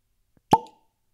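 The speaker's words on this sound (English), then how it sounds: "Do we want a cork pop on that?" A cork pops from a freshly opened bottle of Elijah Craig Barrel Proof bourbon, one sharp, loud, close plop with a brief ringing tail, alone in otherwise quiet surroundings.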